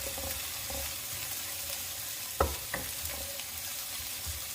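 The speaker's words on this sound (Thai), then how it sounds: "ทีนี้เราก็มาเริ่มผัดกันเลยนะคะ หลังจากที่เราทอดมะเขือเรียบร้อยนะคะ" Fried eggplant hisses and sizzles softly in a pan as stir-frying begins, with a steady, low frying noise and a couple of short utensil taps near the middle, and no talk.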